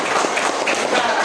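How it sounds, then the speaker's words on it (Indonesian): Children at an Indonesian primary school event clap together in a brief, dense burst of applause, close and steady, with some voices mixed in. "beri tepuk tangan untuk"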